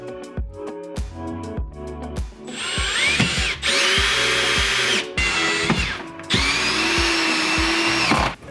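A power drill whirs in repeated bursts, driving screws up from below into a solid wood RV countertop, with loud, sustained runs and brief pauses between, music faintly in the background.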